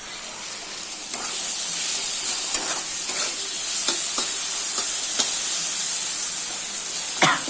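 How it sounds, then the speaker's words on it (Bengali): Onions and eggplant sizzle steadily in a frying pan, a continuous hiss with occasional louder crackles and spatters, close and alone without talk. "এগুলো ভাজা ভাজা হয় পেঁয়াজ ভাজাই আছে দিয়ে দেবো"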